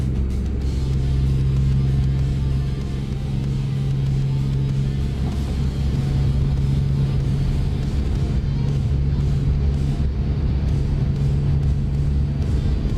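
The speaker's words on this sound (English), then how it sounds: "this truck sounds a little different" Truck engine in American Truck Simulator, a steady loud low rumble with a constant drone that holds evenly for about thirteen seconds without any clear revving.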